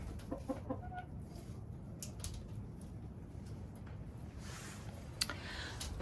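Hens cluck softly in a chicken coop during strong wind, with a few quick clucks early on and more faint clucking over a steady low rumble.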